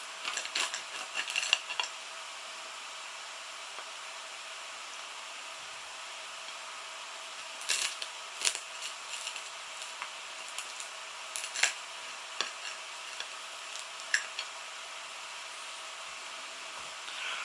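A knife scraping and clicking against a hard, overcooked Tesco Hearty Food Co toad in the hole on a plate, faint metallic taps and scrapes in scattered bursts over a quiet background.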